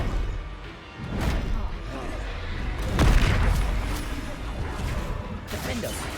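Confringo spell explosions in Hogwarts Legacy, a few muffled booming blasts with crashing, whooshing tails, mixed into busy combat sounds with talk in the background.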